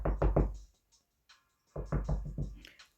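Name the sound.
knocking on a door, from TV show Sistas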